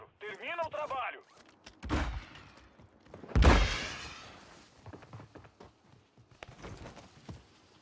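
A few sharp gunshot bursts from an overpowered weapon in the video game Warzone stand out over game background noise, with a voice talking between the shots.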